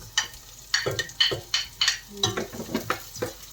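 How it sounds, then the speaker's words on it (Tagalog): Onions dropped into a hot pan for a home-cooked vegetable dinner, giving repeated sharp sizzles and stirring scrapes against the pan in a quick, uneven rhythm, close and fairly loud. "Ilagay ko na yung aking sibuyas."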